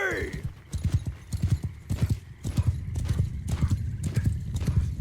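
Cavalry horses gallop in Mount & Blade II Bannerlord, rapid loud hoofbeats with a neigh near the start and a voice talking over the charge.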